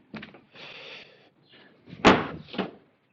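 The door lock actuator of a 2005 Scion xB clunks through locking and unlocking, with a few short mechanical whirs and thuds and one sharp, louder clack near the end, close up.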